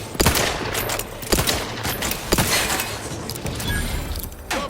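Gunfire in The Outer Worlds 2 video game, a rapid fusillade of loud shots with sharp cracks and rattling bursts, close and continuous across the combat.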